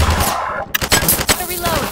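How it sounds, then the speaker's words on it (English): Loud, close gunfire from sniping in Garry's Mod, with a few sharp shots standing out over a busy game soundscape. "Garrys Mod sniping."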